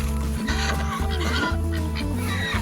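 Hens, including a Midnight Majesty Marans, clucking in an open pasture, with steady, close, overlapping calls that continue throughout.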